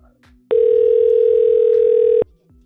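A telephone ringback or dial-type tone sounds as one steady, loud electronic tone for about two seconds while calling someone who is not picking up, with faint background before and after.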